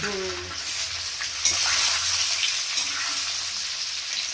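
Panch phoron spices tempering in hot oil, a loud, steady crackling sizzle that runs close and continuous throughout, with a brief low murmur at the very start.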